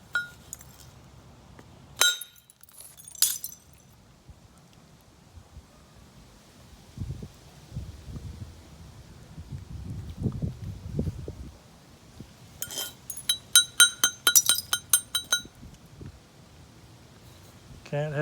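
A large flint is struck by direct percussion, giving a few sharp glassy clinks and cracks in separate bursts, then a quick run of clicking strikes, close up amid quiet handling noise.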